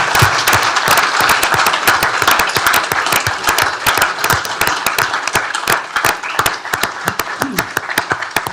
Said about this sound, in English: And how about a big round of applause?